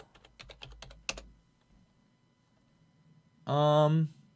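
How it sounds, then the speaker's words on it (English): Rapid clicking of keys on a computer keyboard as a short search is typed, a quick burst of taps followed by silence, then a brief voiced sound at the end. "Let's type in Daily Mail."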